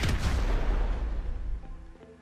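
Explosion in Grand Theft Auto V during a raid on a federal building: a loud, deep boom right at the start that rumbles and slowly fades over about two seconds, with no talking.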